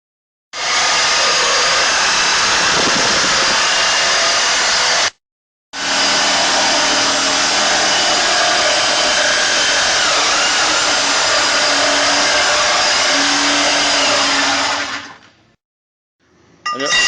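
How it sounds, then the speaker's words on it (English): A loud power tool cuts through a welded steel rollbar during installation, a sustained high whining roar running long with one short break, then winding down and stopping near the end. "And those where we're going to cut the bar."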